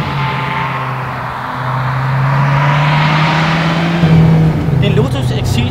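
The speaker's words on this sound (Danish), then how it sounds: "En Lotus Exige Cup 260, som er baseret på en Lotus Exige S, som i forvejen er rimelig hardcore" A Lotus Exige Cup 260 track-day sports car, built on the Lotus Exige S, drones with a steady engine note that rises in pitch, sitting loud under someone speaking.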